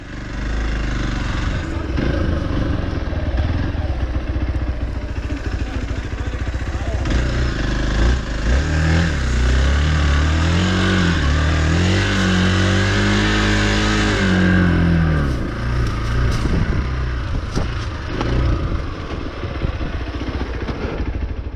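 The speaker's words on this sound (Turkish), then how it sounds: "Sadece patinaj." Several Hero XPulse 4V motorcycles spin their wheels on wet, slippery ground, with engines revving hard and rising and falling in steady loud bursts while riders talk over them.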